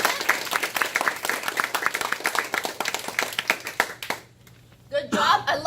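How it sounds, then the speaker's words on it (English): A Toastmasters club audience claps for its officers in a brisk round of applause with distinct individual hand claps. It fades out and talking follows. "please give your officers a big round of applause and encouragement"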